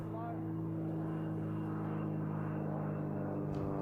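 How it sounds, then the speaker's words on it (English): A plane passes overhead during an outdoor bowls tournament as a continuous, fairly loud engine drone with steady humming tones that fills the whole stretch, under a faint voice. "Hear the sound of a plane overhead"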